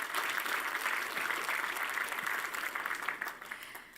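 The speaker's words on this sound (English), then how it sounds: "Can I get an applause?" A conference audience at a Microsoft Ignite technology event breaks into applause, a dense wash of clapping that holds steady for several seconds before thinning slightly at the end.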